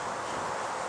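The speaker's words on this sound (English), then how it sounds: "it's kind of cold and windy out here" Cold wind blows outdoors in a steady broadband rush, loud and close against the microphone, with no talking.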